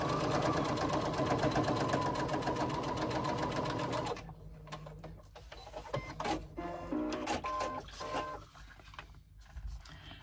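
A sewing machine runs a basting stitch down the side of fabric card slots. The motor whirs steadily and loudly for about four seconds, then stops, leaving quieter handling and rustling sounds.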